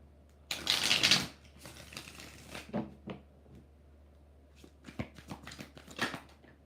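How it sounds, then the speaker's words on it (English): Tarot cards being shuffled by hand, a dense riffling burst up close followed by scattered softer card snaps and taps, with no talking. "One more shuffle for Dasa."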